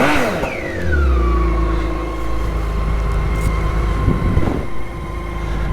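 A motorcycle fresh from a major 50,000-mile service runs steadily at close range, with a brief rev near the start settling into an even, throaty idle that holds throughout, with no voices.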